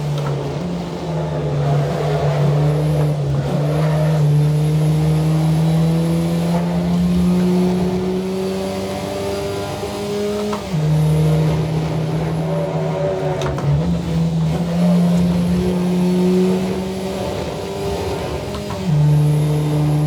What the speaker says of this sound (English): And I can hear the whining noise of the turbo.